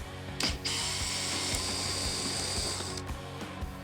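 Ratcheting clicks from a T27 Torx bit backing out the windshield trim screws on the outer front fairing of a 2014-or-later Harley-Davidson Street Glide, a steady close mechanical ticking with a few brief louder knocks.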